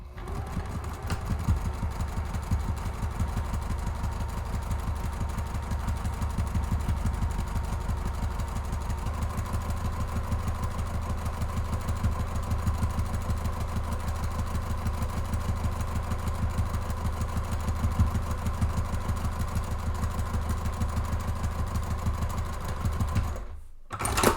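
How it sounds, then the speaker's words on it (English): Close and steady, a sewing machine hums through one long continuous row of accent stitching on a messenger bag's exterior pocket, the even motor chatter stopping only at the very end. "I'm just going to bump down the 1/4 inch and add one more row of accent stitching."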